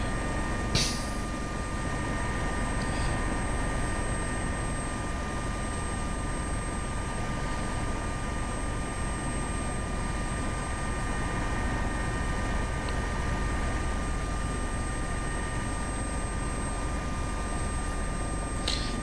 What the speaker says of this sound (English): This is a French-made helicopter X-plane.